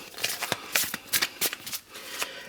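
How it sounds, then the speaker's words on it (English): A deck of tarot cards is shuffled in several quick riffling bursts, close and crisp, with no talking over it. "before I shuffle the deck"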